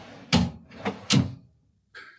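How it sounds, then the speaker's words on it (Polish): Three wooden thuds from drawers in a hotel room wardrobe being opened and shut in quick succession, followed after a short pause by a faint scraping slide. "szuflady"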